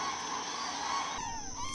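Migrating cranes call in faint, brassy, honking tones that ring steadily through a valley sanctuary, with a drop and rising inflections near the end.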